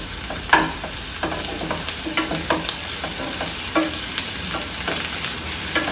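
Stuffed bitter gourd (kakarakaya) frying in a pan, a steady oily sizzle broken by repeated scraping clicks and taps as the pieces are stirred and turned, close and clear with no talking.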